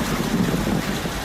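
A tour boat's engine runs on the water while fleeing a hippo, a steady low rumble masked by heavy wind buffeting the microphone, continuous and close.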